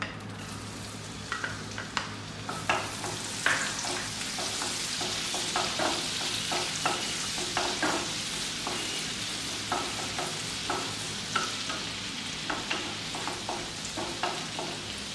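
Garlic sizzles and fries in a pan while making a white sauce for pasta, a loud, continuous crackling hiss broken by regular scraping stirs of a spatula, with no talk.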